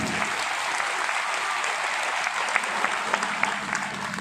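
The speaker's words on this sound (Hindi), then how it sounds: "जोरदार ताली बजा के इनका स्वागत करिए।" Dense, loud applause from a large crowd at a political rally in Bahraich, continuous clapping with a few sharper claps standing out near the end.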